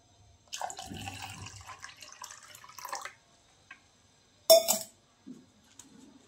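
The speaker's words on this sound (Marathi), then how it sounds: "तर परत थोडं पाणी टाकायचं आहे आणि जास्त पाणी टाकायचं नाही" Water splashes and trickles into a metal kalash pot for a few seconds, followed by a clink and some small dripping sounds nearby.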